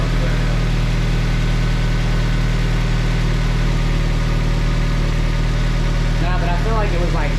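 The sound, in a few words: Mazda Miata engine idling after throttle body swap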